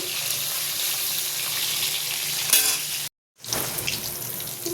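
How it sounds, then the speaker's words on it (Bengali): Hilsa fish sizzling in a pan of hot oil, a dense close crackle with one brief louder flare, a cut to silence, then the frying picks up again. "এখানে ইলিশ মাছ ভাজা হচ্ছে"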